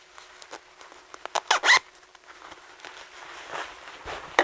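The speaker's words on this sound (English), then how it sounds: "and then we're going to close the zipper." A zipper on a freshly sewn garment is pulled closed, giving a series of close, raspy zipping strokes with a louder burst midway, alone without speech.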